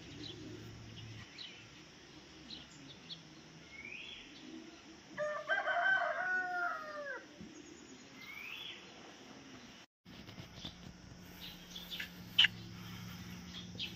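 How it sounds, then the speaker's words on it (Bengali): A rooster crows once in the open air outside a Darjeeling homestay, fairly clear over quiet rural ambience, with a few other birds chirping faintly before and after. "ম্যাক্সিমাম যে আওয়াজটা আপনি পাবেন সেটা হচ্ছে যে মানে পুরোপুরি প্রকৃতির আওয়াজ, গাছের আওয়াজ, পাখির আওয়াজ"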